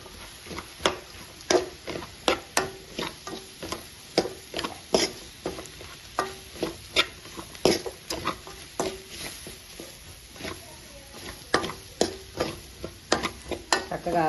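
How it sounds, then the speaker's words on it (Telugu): Ridge gourd pieces frying in a kadai are stirred repeatedly, giving a regular series of scraping, clinking strokes over a soft sizzle. "ఇప్పుడు బీరకాయ ముక్కలు వేసేద్దామండి దీంట్లో, కళాయిలో."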